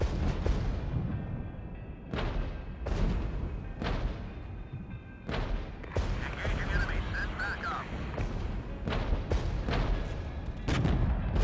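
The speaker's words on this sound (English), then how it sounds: "Artillery coming in already." Artillery shells slam down in a war video game, Regiments, in a series of heavy booming impacts spaced a second or two apart, with crackling debris and background rumble between blasts.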